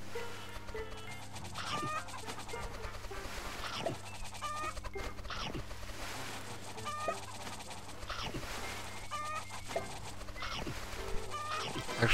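Chickens cluck repeatedly in the Roblox game Egg Farm Simulator, short clucks and calls recurring every second or two over a steady hum of game music and ambience, with no talking.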